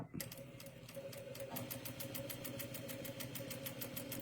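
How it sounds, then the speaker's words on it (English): Domestic sewing machine stitching a straight seam on fabric for a crochet-along project, running steadily with a rapid, even mechanical whir and ticking needle rhythm throughout, close and constant. "And then I'm going to stitch on that line."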